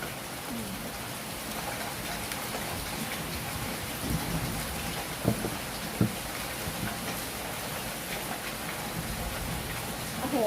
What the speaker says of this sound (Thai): เสียงฝนจะดังหน่อยนะคะ